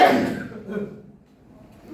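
A single short cough up close, followed by a faint second throat sound and quiet room tone.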